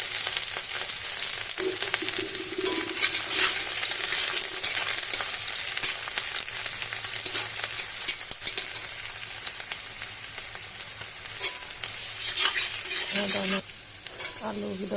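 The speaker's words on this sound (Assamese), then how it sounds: "তেল গৰম হৈছে, ইয়াত দিছোঁ পিঁয়াজ।" Chopped onion sizzles in hot oil in a home kitchen pan, a steady loud frying hiss with occasional stirring scrapes throughout.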